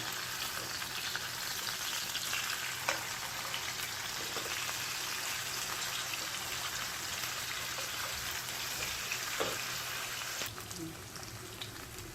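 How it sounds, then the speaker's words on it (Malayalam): Fish sizzles steadily in a hot pan for fish molly, a continuous close frying hiss with faint stirring clicks, tapering slightly near the end. "മീൻ ആവശ്യത്തിന് ഫ്രൈ ആയിട്ടുണ്ട്."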